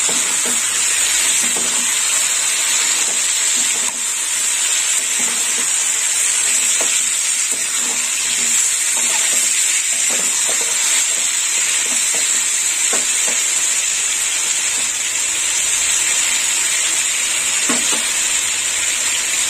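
Mixed vegetables sizzle and fry in a pan with a steady hiss, punctuated by frequent scraping stirs of a spatula, loud and close with no talking.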